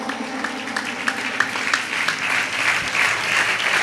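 Sustained, dense clapping fills the room as a Jain gathering in Itarsi applauds at an honour ceremony, growing slightly fuller toward the end with no clear speech on top.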